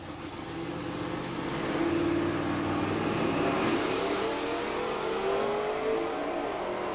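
Drag racing launch at a dragstrip, a Chevrolet Vega against a 1970 Nova, with loud sustained engine roar building into hard acceleration over about seven seconds, no talk.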